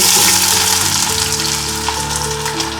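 Whole spices, including bay leaf, cinnamon and cardamom, fry in hot oil for chicken biryani, giving a loud steady sizzle with a few stirring noises and no talk.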